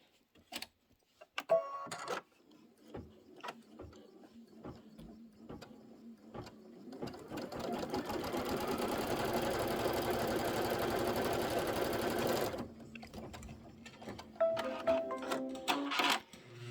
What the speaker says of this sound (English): return the hoop to the machine, stitch the above stitch seam